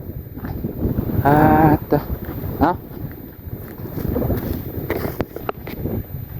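Strong wind blows across a salt field in Laos, buffeting the microphone with uneven gusty rumble while someone talks over it in short bursts.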